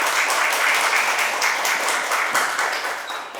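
A crowd applauding steadily, dense clapping that holds level for a few seconds before starting to thin out.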